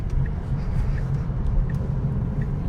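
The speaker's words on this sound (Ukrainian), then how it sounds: "я їду по трасі своєю трійкою" Interior of a BMW 3 Series cruising on a highway, a steady low road and engine rumble with faint rhythmic ticks, no talking.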